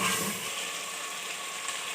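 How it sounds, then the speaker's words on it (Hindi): Spices being roasted in a pan with a splash of water for achari aloo gobhi, giving a steady close sizzle and hiss with no one talking. "हल्का सा पानी का छींटा देके मसाले की भुनाई करेंगे।"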